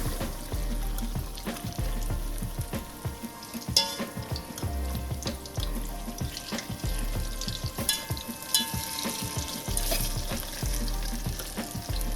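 Jamaican bammy frying in very hot oil, a steady loud sizzle and crackle running throughout with occasional sharper pops and spatters.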